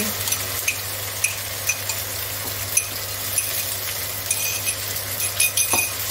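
Chili con carne sizzles steadily in a pan as tomato juice goes in, with frying crackle throughout and several light clinks of a utensil against the pan; no one speaks.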